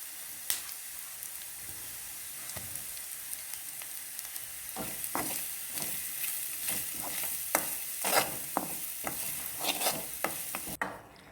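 Grated coconut is stirred in a hot pan while making wheat payasam, giving a soft steady sizzle punctuated by scraping strokes of the spoon that grow busier midway, close and fairly quiet, with no talking.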